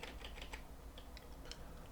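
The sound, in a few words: typing on a computer keyboard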